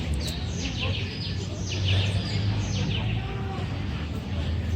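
Scattered bird chirps ring out over a steady low hum of outdoor background noise in a city park in Peru, with several birds calling intermittently at a moderate distance.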